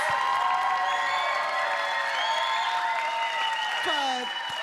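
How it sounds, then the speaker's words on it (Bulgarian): Audience applauding and cheering a children's acrobatic dance troupe at the Bulgaria's Got Talent finals, with loud music playing over the crowd throughout. "Аплодисменти за Тапия Денс Хаус!"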